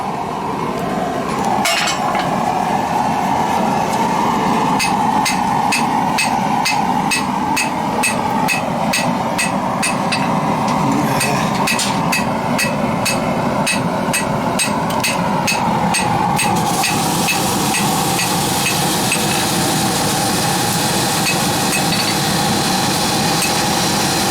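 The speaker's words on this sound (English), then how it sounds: "That's your hammer?" Hammer blows ringing on metal at a forge, a long series of sharp, regular metallic strikes in steady rhythm, fairly close and loud over a background hum and clatter.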